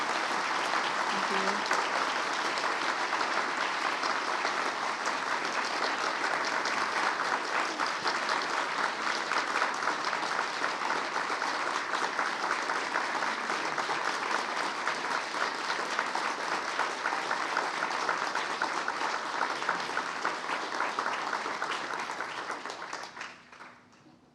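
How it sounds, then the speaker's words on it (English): Sustained audience applause in a conference hall after a keynote interview, dense even clapping that continues for over twenty seconds before fading out, with a brief spoken voice over it. "Let's give her another round of applause, please."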